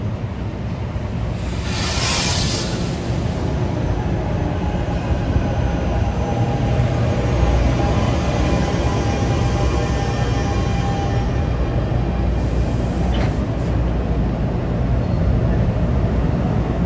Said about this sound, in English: We have a New York bound train departing with double deckers.